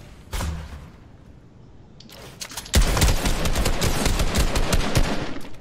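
AK assault rifle fire in the Fortnite video game: a lone shot, a brief lull, then a sustained loud automatic burst of rapid rounds that keeps going to the end.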